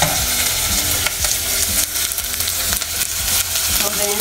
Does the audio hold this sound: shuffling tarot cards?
no